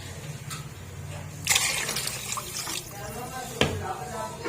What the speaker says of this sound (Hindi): अब 2 लीटर इसके अंदर पानी ऐड कर देंगे, पानी ज़्यादा जाएगा इसके अंदर ऐसे।